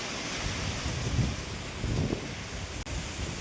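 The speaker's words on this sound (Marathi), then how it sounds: "हे बघा सगळीकडे हवा लागत आहे, बघा खूप हवा लागत आहे" Strong wind gusting through a village, a steady rushing roar with swelling surges and low rumbling buffeting, constant and fairly loud throughout, with no one speaking.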